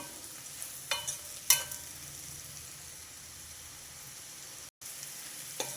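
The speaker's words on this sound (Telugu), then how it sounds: "ఇప్పుడు వేయించి పెట్టుకున్న కాకరకాయలు వేసేసా ఇవి కొంచెం ఉల్లిపాయతో మగ్గితే" Fried bitter gourd pieces sizzle with onions in a hot pan, a steady close hiss broken by a few sharp crackles and stirring clinks, with no talking.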